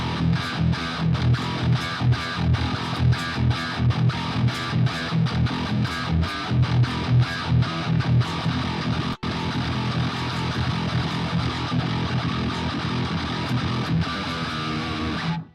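Heavily distorted electric guitar chords, played through an amp simulator plugin, chug in a steady rhythm, then settle into sustained, ringing tones.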